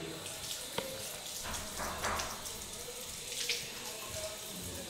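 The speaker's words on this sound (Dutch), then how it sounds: "De kraan is blijven lopen." A water tap left running into a sink, a steady broadband hiss and splash throughout, moderately close, with faint voices in the background.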